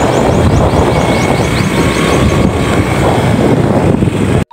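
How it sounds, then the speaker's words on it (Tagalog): A new motorcycle running while being ridden outdoors, its engine drone buried under loud, continuous wind rush against the microphone that lasts throughout and cuts off abruptly at the end. "Tumatakbo na itong ating motor."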